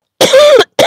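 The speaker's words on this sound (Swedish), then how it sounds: "Jag hostar och jag ber om ursäkt för det." A single loud, close cough from a woman with a cold, one harsh rasping burst followed by the start of another.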